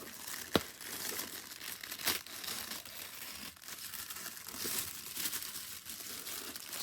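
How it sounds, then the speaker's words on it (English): Paper being ripped and crinkled while opening a summer pocket letter craft package, with several sharp tearing bursts over a steady close crinkling rustle, no talking. "There's no two ways about ripping the paper"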